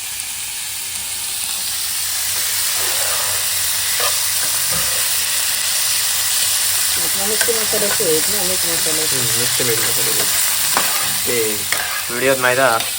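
Masala sautéing and roasting in a pan, a loud continuous frying hiss with stirring scrapes close by, while voices talk over it in the latter half.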